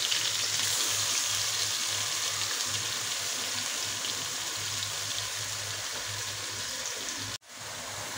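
Onion, ginger and garlic paste sizzles steadily in hot oil for a green jackfruit biryani, a dense, even hiss that runs loud and unbroken until a sudden brief dip near the end, with no talking.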